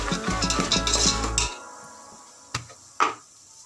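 Turmeric is stirred into fried poha in a pan, with a busy run of metal spatula clatter against the pan that stops after a second and a half, followed by two isolated sharp knocks; no voices.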